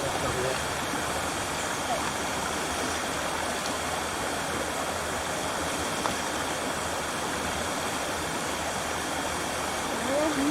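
Overflowing creek water rushing steadily, a dense continuous broadband roar up close with no breaks.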